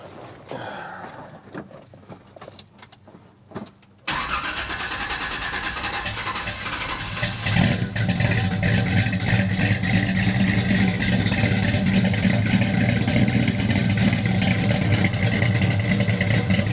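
A 1974 Chevy Camaro engine cranks and catches after a few seconds of rattling, then settles into a loud, rough idle that swells with revs, close by and continuing without talk.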